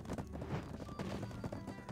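Horse hooves clip-clopping in the online game Black Desert, a level 4 mount racing; a steady rapid patter of hoofbeats runs close and fairly loud, with faint background game sounds and no talk.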